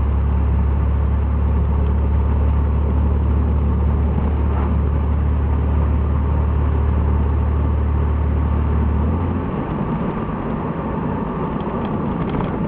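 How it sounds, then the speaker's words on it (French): Engine of a 1982 Pontiac Trans Am idles with a leaking, holed catalytic converter, a loud, steady low drone with a raspy exhaust note that drops and changes character near the end. "il y a une fuite, hein. Je crois qu'il est troué, c'est pour ça que vous entendez ce drôle de bruit là."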